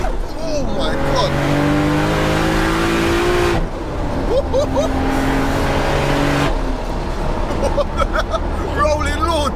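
A 1000 BHP Toyota Supra makes a rolling launch in 4th gear, its engine roaring and rising in pitch with brief tire noise. A crowd chatters loudly throughout.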